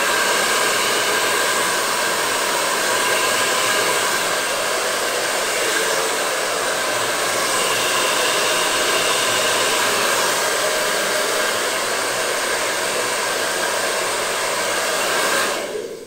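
A handheld blow dryer runs in a salon backstage, a loud, close, unbroken whooshing roar that holds steady before cutting off right at the end.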